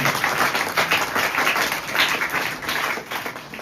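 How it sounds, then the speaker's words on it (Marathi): Sustained applause from an audience at a Marathi literary conference, a dense wash of clapping that holds steady for several seconds with no one speaking. "म्हणून जोरात टाळ्या पसरवतो."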